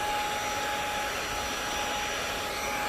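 Lotus X30 Pro cordless vacuum cleaner running steadily and close, a constant airy whine with a broad hiss and no pauses or talk throughout.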